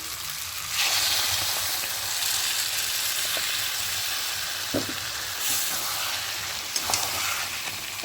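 Spinach paste cooking with tomato and chicken in a hot pan: continuous loud sizzling and hissing, with a few soft knocks and scrapes of a spoon stirring.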